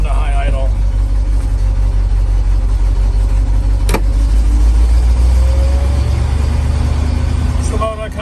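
A GMC 7000 boom truck with a big block 366 engine runs at high idle, a steady deep rumble with a brief clank partway through and a voice heard over the engine.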